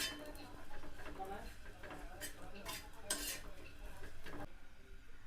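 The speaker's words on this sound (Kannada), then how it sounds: "ಈ ಥರ ಕೈ ಆಡ್ಕೊತ ಕೈ ಆಡ್ಕೊತ ಕೆಂಪಾಗಂಗೆ ಹುರ್ಕೋಬೇಕ್ರಿ" Metal spoon scraping and clinking against a hot pan while food is dry-roasted until red, a run of irregular stirring scrapes and knocks, close by, with someone speaking over the cooking.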